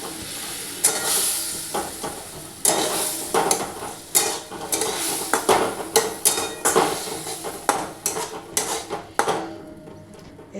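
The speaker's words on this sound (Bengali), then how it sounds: "বাটিটা ধুয়ে একটু জল দিচ্ছি।" Cooking in a pan for a mustard-poppy seed paste prawn dish, with a bowl rinsed and water poured in: a string of sharp clinks and knocks of utensils against the pan over a sizzling hiss.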